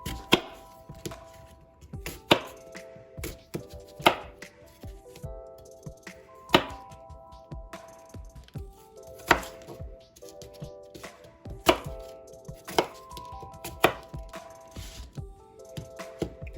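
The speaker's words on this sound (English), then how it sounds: "So we can put them in the processor." Granny Smith apple pieces are chopped in a food processor. Sharp, regular thunks and knocks repeat steadily at close range, with no talking.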